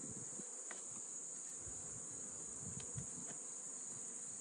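Honey bees buzz around an open hive during a brood-frame inspection, a constant high drone with faint bumps and knocks of frames underneath, no voices.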